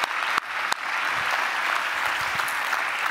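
An audience at the Brain Forum 2016 innovation award claps steadily, a dense, even wash of applause with two sharp isolated claps near the start.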